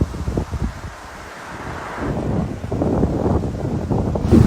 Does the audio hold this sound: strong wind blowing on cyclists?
yes